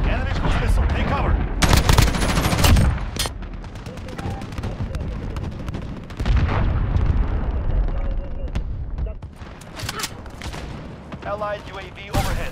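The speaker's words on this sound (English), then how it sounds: "Enemy cruise missile, take cover." Call of Duty Modern Warfare 2019 multiplayer combat: bursts of loud machine-gun fire and booming explosions from a cruise missile strike, dense and chaotic, with brief radio-style voice callouts mixed in.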